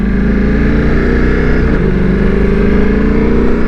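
A Ducati Multistrada V4 motorcycle accelerating while being ridden, its loud engine roaring close and continuous with a brief quick-shift dip midway, and wind noise running underneath.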